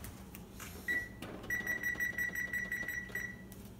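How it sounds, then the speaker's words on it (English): A kitchen timer signals that sourdough bread is done: one short beep, then a quick run of about eight sharp electronic beeps at an even rhythm, fairly close, over a quiet room. "the timer just went off for the bread"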